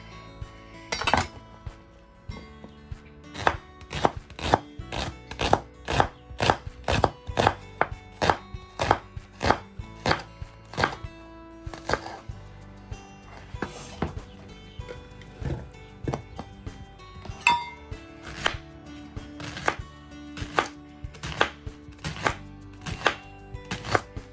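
A knife chops shallots on a cutting board in a quick series of sharp, close knocks that come in bursts with short pauses between them, with no other sounds around.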